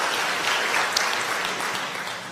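A church congregation at a Sunday service applauds in welcome for a returning member, a full, even burst of clapping that stays loud and close for the whole moment.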